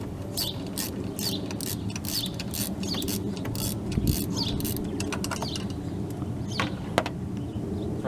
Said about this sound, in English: unscrew, there's an 8mm bolt that holds this hose clamp